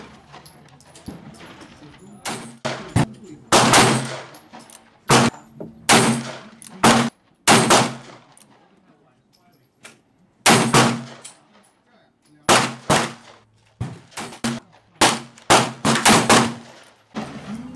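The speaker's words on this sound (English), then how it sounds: "We're going to put another 50 rounds through it and check its accuracy one more time." A .38/.357 revolver fires a long string of rounds at a paper target on a range, loaded with small rifle magnum primers. Sharp, loud shots come in irregular bursts and pairs, with quiet pauses between groups.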